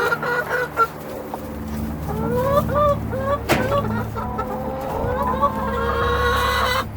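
Chickens in a backyard flock cluck and chatter continuously, several hens calling over one another at close range with a steady low hum underneath.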